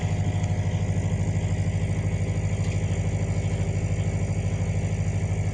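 A Falcon 26 boat's engine idles just after starting, a steady low rhythmic chugging close by that holds evenly throughout with no talk.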